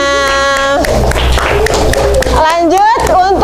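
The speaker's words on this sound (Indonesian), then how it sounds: "kita berikan tepuk tangannya" An audience applauds a student group at a school teacher-training session, a dense burst of clapping in the middle mixed with voices and speech that carry on before and after.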